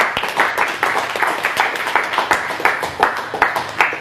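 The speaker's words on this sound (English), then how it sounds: "Give them a round of applause." An audience applauds after a magic trick, with a short burst of brisk, moderately loud clapping.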